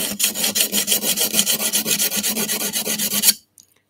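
A garden tool blade is worked quickly back and forth across sharpening stones, a close, steady run of about two dozen rhythmic rasping strokes that stops abruptly, followed by near silence.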